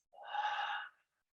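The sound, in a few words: deep inhale then exhale through the mouth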